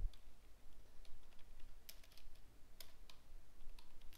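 Fingers type on a computer keyboard in steady quick runs of soft clicks with a few sharper taps, close and fairly quiet, entering web page code, with no one talking.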